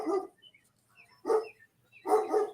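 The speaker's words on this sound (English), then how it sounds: "my dog's barking again because that's what he does" A dog barks indoors in three short bursts, the last a doubled woof, separated by brief pauses, moderately loud and close with no talking over it.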